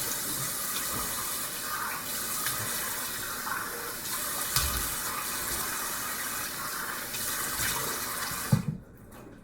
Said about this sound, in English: So I'm going to rinse off a little bit of cool water.